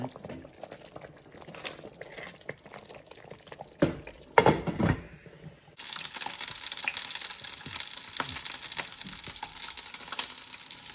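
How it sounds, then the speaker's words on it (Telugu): Capsicum masala curry frying in a pan while being stirred, a soft bubbling sizzle with occasional scraping stirs that grows louder and steadier in the second half. "మళ్ళీ ఆయిల్స్ అంతా సపరేట్ అయ్యే వరకు ఉడికించుకోవాలండి మళ్ళీను మధ్య మధ్యలో కలుపుకుంటూ ఉందామండి"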